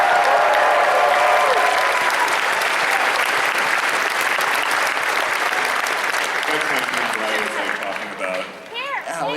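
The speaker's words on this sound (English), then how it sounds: "Give you guys one more round of applause." Dense, loud applause from a convention crowd at the BronyCon 2016 closing ceremony, sustained clapping that fades out near the end as voices and whoops rise through the room.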